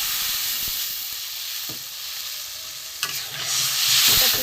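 Spice paste frying for an okra (bhindi) curry, heard as a steady broadband sizzle; a sharp burst hits just after three seconds and the hiss and bubbling swell louder toward the end as water meets the hot pan.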